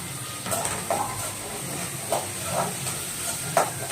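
Tomato and green chillies sauté in a pan for a small-fish curry, making a continuous hissing sizzle with faint, regular stirring scrapes, moderately loud and close, with no voices.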